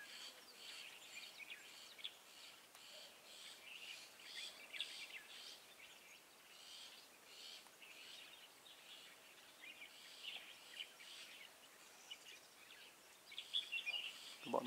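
White-eye birds call steadily over a long stretch, mixed with other chirps and the bulbul-like phrases they mimic, sounding moderately close outdoors, with faint background noise and a brief louder knock at the end.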